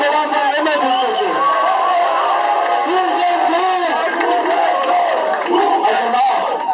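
Concert crowd at a show in Bremen, 2012, applauds and cheers, a loud sustained roar of voices and shouting with clapping mixed in, filling the whole stretch.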